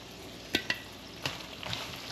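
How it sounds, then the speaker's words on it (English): Fire-roasted food sautés quietly in a pan under a faint steady sizzle, with a few soft utensil knocks and scrapes, close and without voices. "just going to let it saute a bit"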